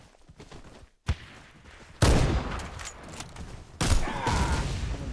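Gunfire in a Counter-Strike-style shooter, with a sharp single shot near one second followed by two loud, dense bursts of shooting that ring on, close and without talk.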